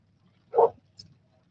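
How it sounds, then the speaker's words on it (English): A single dog bark, faint and distant, outdoors along a bike trail in the northeast, followed by a brief quieter sound. "Another dog barking."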